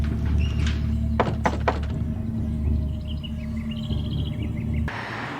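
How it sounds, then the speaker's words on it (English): Knocks on a porch door in The Terminator: a few quick, sharp raps in a short cluster over a steady low hum, with birds chirping faintly in the background. "As he walks up the porch and knocks"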